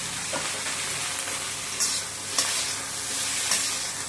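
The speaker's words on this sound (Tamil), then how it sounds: "கத்திரிக்காய் வந்து ரொம்ப நேரம் எண்ணெயில் வதக்கக்கூடாது" Brinjal pieces frying in oil in a pan for a brinjal, drumstick and green pea stir-fry, a steady close sizzle broken by a few clattering stirs of a spoon, with no voices.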